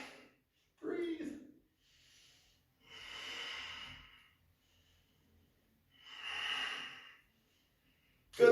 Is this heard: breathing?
yes